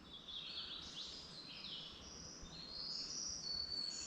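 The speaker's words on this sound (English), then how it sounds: "Birds are singing." Forest birds sing steadily, with faint, overlapping chirps and warbling trills above a soft, constant background hush. No other activity stands out.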